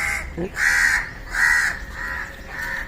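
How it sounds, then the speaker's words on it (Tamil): A crow caws repeatedly outdoors, four or five loud, harsh calls in steady succession, close by and clear with no talking. "டிஸ்டர்ப் பண்ணிகிட்டே இருக்க காக்கா ஒன்று."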